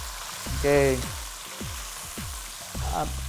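Green chilies stir frying in a hot pan, a steady sizzle with a few scraping stirs of a utensil and a faint voice underneath.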